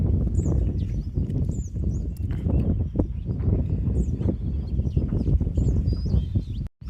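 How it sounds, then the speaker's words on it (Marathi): Birds call with short, high chirps scattered over a constant rushing background of flowing creek water, several calls a few seconds apart at moderate distance. "कुठचा पक्षी आहे माहीत नाही मस्त वाटत पक्ष्यांचा असा वेळ"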